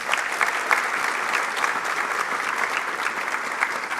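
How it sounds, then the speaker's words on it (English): A roomful of people at a Boys & Girls Clubs morning breakfast event clapping loudly and continuously, a thick, even wash of applause with a faint murmur of the crowd underneath. "Please give them another round of applause."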